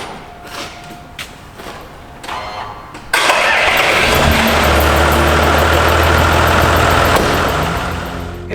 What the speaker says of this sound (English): So I'll start up the truck now